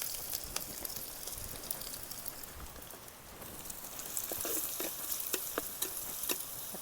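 Ginger and garlic frying and being stirred in a pan for a dry fish pickle, giving a dense rain-like crackle with frequent spatula scrapes, steady and moderately close.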